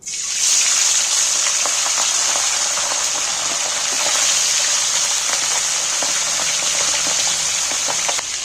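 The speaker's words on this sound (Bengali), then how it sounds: "এইবার আমি মাছগুলো কড়াই তুলে দিচ্ছি।" Pomfret fish fry in a generous pool of hot mustard oil, giving a loud, even, hissing sizzle that holds steady throughout, close up and without talk.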